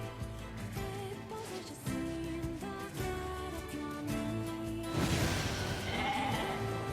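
Sheep bleat repeatedly in the NieR Replicant video game, a cluster of wavering cries layered over continuous game music at moderate volume.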